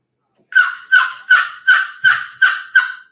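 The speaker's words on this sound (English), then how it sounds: "I like to start off with this call in the mornings. It's a loud, aggressive call. I like to start off just doing yelps." A wooden box call works out seven loud, evenly spaced turkey yelps, each sharp and raspy, after a half-second of silence, ringing close and clear with nothing else beneath them.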